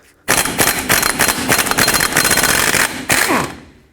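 An impact wrench on a 23mm socket rattles off a lower control arm nut on a 2007-14 Chevy Silverado. It gives a loud, close, continuous hammering burst of about three seconds with a short pause near the end.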